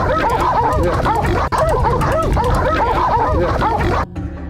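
Several dogs bark and yip excitedly at wild boars in a loud, dense, overlapping chorus that runs continuously, then breaks off abruptly near the end.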